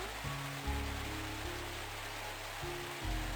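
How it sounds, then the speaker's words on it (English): Soft, even rain ambience plays in the video game Bread Adventure. The steady hiss stays low under a few deep, blocky tones. "Soothing rain sound."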